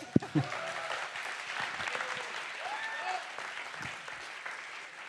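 An audience at an evening event for entrepreneurs and young people claps in a steady round of applause that holds for several seconds, opening with a few sharp claps and then fading slightly.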